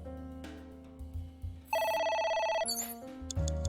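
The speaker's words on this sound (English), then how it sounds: "A phone." A telephone rings in the video game AI: The Somnium Files, a synthesized electronic ringtone of repeated tonal bursts over game music, fairly clear and upfront with no talking.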